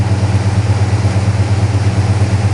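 A Pontiac Catalina 2+2 idles just after a cold start, a loud, close, deep pulsing rumble with a steady even throb and no talk.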